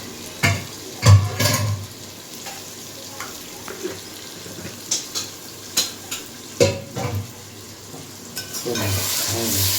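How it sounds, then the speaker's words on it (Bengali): Goat meat sautéing in hot oil with salt, turmeric and spices in a pot, with a steady sizzle broken by repeated scraping stir strokes and clinks of a utensil against the pan, close up. "ভালো করে এবার কষিয়ে নেব।"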